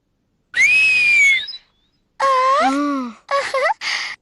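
A cartoon girl whistles alone in a Tamil-dubbed Heidi episode: one long rising-and-falling whistle, then several shorter wavering whistles after a pause, clear and close.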